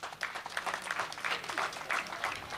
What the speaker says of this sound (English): Let's give these two young men a round of applause.